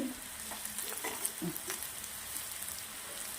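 Sautéed potatoes sizzle steadily in a frying pan as a spoon scrapes and stirs them through, with soft clacks of the utensil against the pan, close and continuous, for a home-style potato and spinach curry.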